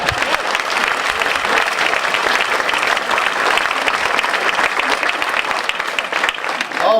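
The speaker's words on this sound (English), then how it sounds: "Feel free to applaud now if you wish." A crowd at a federal election debate breaks into loud, sustained applause, a thick wash of clapping filling the room without pause.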